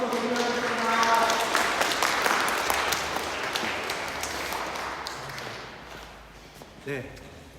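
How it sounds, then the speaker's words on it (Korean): Church congregation at Sunday worship breaks into applause once more, thick clapping swelling early then gradually thinning, with a voice speaking over it and a brief knock near the end. "다시 한번 박수로 드리겠습니다"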